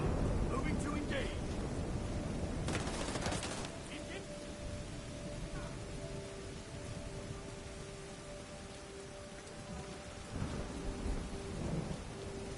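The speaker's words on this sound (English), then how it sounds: "It's such a big storm." Heavy rain pours steadily through a video game thunderstorm on PS5. A loud thunder crack bursts in early and a second rumble rolls in near the end, and a faint voice may sit under the rain.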